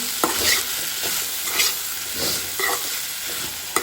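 Boiled cauliflower and potato stirred in a hot pan with green chili, several repeated scraping strokes of a spoon over a steady low sizzle, close and fairly loud.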